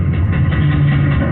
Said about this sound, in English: That's the sound of a producing oil well